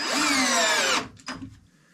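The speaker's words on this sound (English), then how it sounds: "now you're drilling down on top of that board" A power drill whines loudly at high speed for about a second, driving screws into wood, then stops, followed by a brief clunk and fading rattle.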